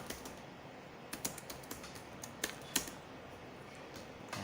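Someone types a teacher's comment on a computer keyboard, irregular clicking keystrokes with a few louder taps and short pauses, close up and with no speech.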